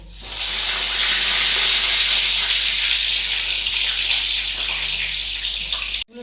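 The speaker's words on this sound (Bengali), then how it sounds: "তেল গরম হয়ে গেছে বন্ধুরা ছেড়ে দিলাম বেগুন" Eggplant pieces slipped into hot cooking oil set off a loud, steady sizzle that hisses evenly for several seconds before cutting off abruptly.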